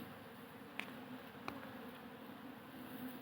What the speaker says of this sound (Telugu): ఈగల్ని ఏ విధంగా మేము ఈ తొర నుంచి బాక్స్లోకి మేము ఎక్కిస్తున్నాము